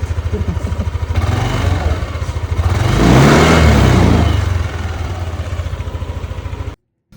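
Motorcycle engine running just after starting, a close, loud, pulsing idle that revs up briefly midway and settles back before cutting off abruptly near the end.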